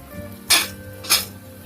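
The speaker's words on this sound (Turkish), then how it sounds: "Bunu da iyi bittikten sonra iyice biraz kavrulacağım bu şekilde." Minced meat browning in a pan for a potato börek, a quiet sizzle underneath with two sharp bursts of clattering and scraping as spices are stirred in.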